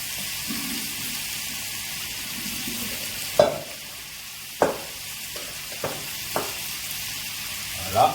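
Noodles tossed into a hot wok with prawns, a steady sizzle and frying hiss broken by a few sharp clanks and scrapes of the utensil against the pan.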